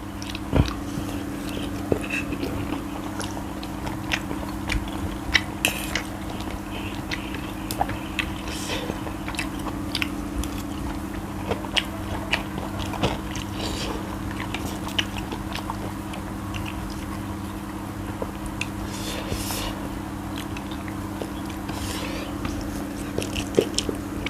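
Someone chews a mouthful of chewy, spicy pad thai noodles with fresh shrimp, giving close, steady wet squishing and biting sounds over a constant low hum throughout.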